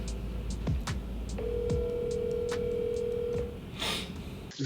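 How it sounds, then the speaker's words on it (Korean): Phone call being placed: a few short dialing tones, then a long ringing tone held for about two seconds and one more burst near the end, heard alone in a quiet room. "전화를 받을지 안 받을지 사실 모르겠어요"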